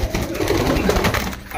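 Pigeon cooing close by, a soft low rolling coo running through the short stretch, with a voice talking over it.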